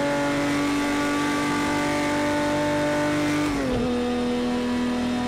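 A Porsche 917 K race car's engine screams at high revs around the historic Spa circuit in Project Cars 2, a loud sustained whine that dips sharply with a gear change near the end.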